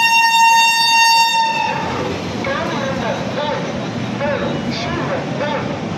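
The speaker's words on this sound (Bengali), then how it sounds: "ট্রেন আসানসোল স্টেশন এসে পৌঁছালো" A Rajdhani Express train horn sounds in a long steady blast, then fades into the loud rumble and clatter of the train rolling into Asansol Junction, with voices talking nearby.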